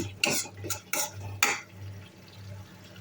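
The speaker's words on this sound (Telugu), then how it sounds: "టమాటో పేస్ట్ను బాగా వేయించుకోవాలి" Tomato paste frying in oil in a pan, with a few sharp metallic scrapes and clinks of a spoon stirring it, then a quieter low sizzle, close up and without speech.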